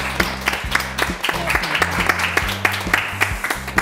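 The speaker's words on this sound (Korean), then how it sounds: "박수로 모시겠습니다." An audience claps and cheers to welcome the director of a Korean anger management institute onto a talk show stage, a lively burst of applause with loud individual claps up close, mixed with murmured voices.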